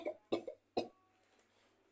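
A person coughs three times in quick succession at close range, sharp dry bursts followed by a faint throat sound in a quiet room.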